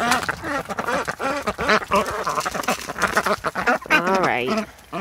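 Several ducks in a coop quack loudly and repeatedly up close, their calls overlapping with a person speaking throughout.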